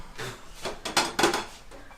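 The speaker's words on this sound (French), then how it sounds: "Vous voulez que je vous essuie votre vaisselle?" Dishes being handled while someone dries them by hand: a few close clinks and knocks of crockery in an uneven rhythm, with no voices.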